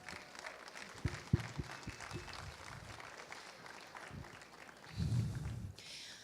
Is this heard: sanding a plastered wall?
no